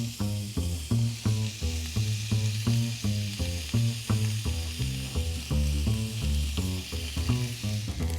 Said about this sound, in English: And here we go with our steak.